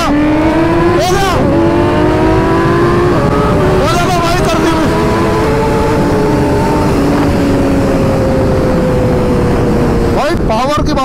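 Kawasaki ZX-10R and ZX-6R sport motorcycle engines scream past at high revs, pitch climbing through gear shifts, with a roaring pass at the start and another near the end.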